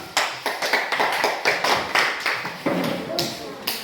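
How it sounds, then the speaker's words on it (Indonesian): Classroom clapping for a student group of fifth-grade pupils, a rhythmic series of sharp, fairly close claps in quick succession, no speech. "Tepuk tangan sekali lagi buat kelompok 5"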